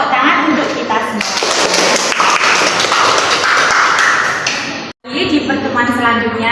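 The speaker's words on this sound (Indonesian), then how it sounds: "Tepuk tangan untuk kita semua." Children in an elementary school classroom break into dense applause that lasts several seconds, with voices mixed into the clapping and a brief gap near the end.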